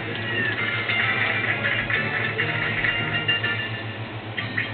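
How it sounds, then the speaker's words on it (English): A cat meowing inside a video game, a series of thin, drawn-out electronic mews sitting over a soft looping game soundtrack, moderately loud and continuous throughout with no talking. "Cat Meows."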